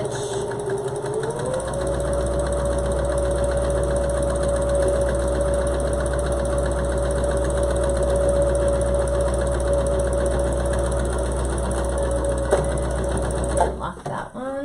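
A sewing machine runs steadily for about twelve seconds as it stitches a cloth surgical-style face mask, a loud continuous motor whir with a rapid needle rhythm, stopping near the end with a few clicks.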